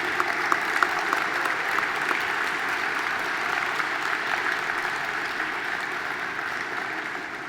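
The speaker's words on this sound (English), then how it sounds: "Please give them another round of applause," Sustained audience applause fills a plenary keynote hall, a dense even wash of clapping from a large seated crowd, steady throughout with no speech over it.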